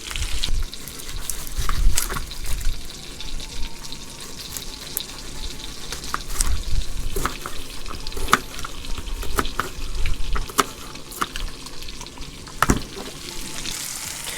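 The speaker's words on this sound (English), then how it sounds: "I should probably show you guys the fish cooking here." Fish cooking fast on a hot camp stove outdoors, with a continuous sizzle and frequent sharp crackles and pops. The sound is close and fairly loud, with no talking.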